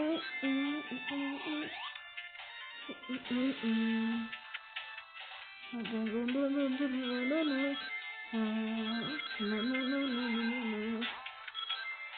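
Chiming pickup jingles from the Sega game Sonic 2 sound in short bright bursts over the game's electronic music, repeating several times across the stretch, with a voice talking briefly over the game audio.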